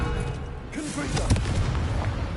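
The Confringo explosive spell cast in the video game Hogwarts Legacy, heard as a blast over dense game noise with short popping bursts, mid-distance and moderately loud.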